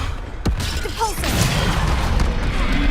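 A Depulsor spell impact in Hogwarts Legacy combat: a sharp crack and thud followed by a crashing rumble, with game battle noise and brief voice sounds around it.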